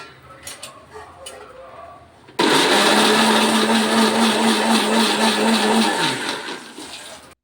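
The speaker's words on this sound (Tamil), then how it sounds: "இப்போ நம்ம ஸ்விட்ச் போட்டுட்டு அரைக்க ஆரம்பிச்சிடலாம்." After a few quiet clicks, a kitchen mixer grinder roars to life, grinding tomatoes into gravy with a loud, steady whirr. It runs for about four seconds, then winds down and stops.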